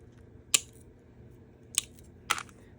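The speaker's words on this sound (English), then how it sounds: "If I do have a flat end, then I just basically cut that flat part off to an angle." Three sharp, separate snips at an unhurried pace, close by against a quiet background, as scissors cut the flat end of a piece off to an angle.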